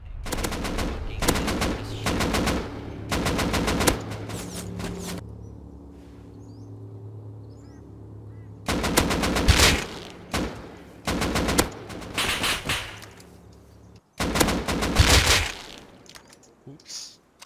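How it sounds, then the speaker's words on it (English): Gunfire in the game Rust, from a tripwire shotgun trap, comes as loud rapid bursts of shots separated by quieter stretches, the longest lull falling midway before another dense volley and a final burst. "A tripwire shot across the map."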